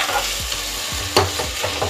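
Ingredients for mutton biryani fry until golden in a pan, sizzling steadily while a spatula stirs and scrapes through them several times in quick succession.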